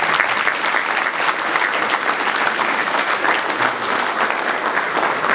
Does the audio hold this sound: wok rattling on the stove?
no